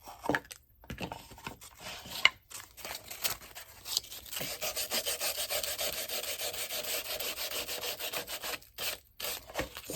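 Sanding a decoupage Christmas book by hand, rapid rhythmic rubbing strokes close up with short pauses between bursts, no talking.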